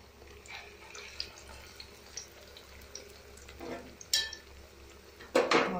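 Vada batter with onion pieces and cumin is mixed in a bowl, giving faint, intermittent wet stirring and scraping with a few sharp utensil clinks near the end, and no voices.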